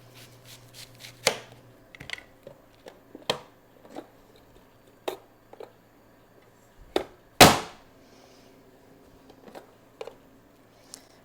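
A vegetable slicer chops vegetables for black bean soup: a series of sharp, separate clacks and slams, close and loud, with one especially heavy strike partway through and lighter taps spaced around it, no voices.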